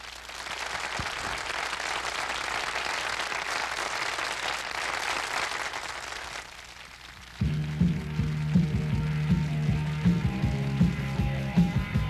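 Dense crowd applause fills the first six seconds, then fades as loud, rhythmic music with guitar and keyboard kicks in.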